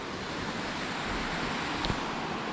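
A river runs over small rocky rapids at a riverside campsite in Sedim, Kedah, giving a steady, even rushing wash of water with no breaks and no voices.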